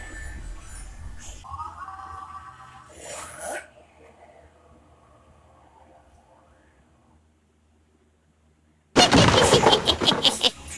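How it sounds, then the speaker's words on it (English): Alien worm shooter lock-on gun from the Shadow the Hedgehog video game fires, giving a burst of loud, harsh, noisy energy shots near the end after a stretch of quieter game sounds and a brief near-silence. "Look at how it shoots."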